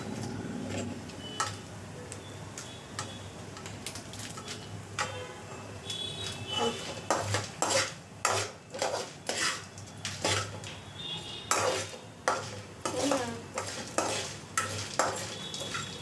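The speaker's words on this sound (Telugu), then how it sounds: "మనం ఇలా వేగేంత వరకు కలుపుకుందాము." A spoon stirs dried red chillies and cumin seeds frying in a pan for curry leaf powder, giving repeated scraping clinks in an uneven rhythm over a faint sizzle, close and fairly loud, with no talk.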